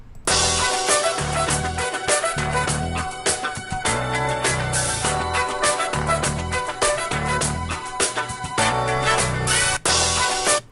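Looped music sample playing loud and full, with a steady beat repeating across the loop and a short break near the end before the loop restarts.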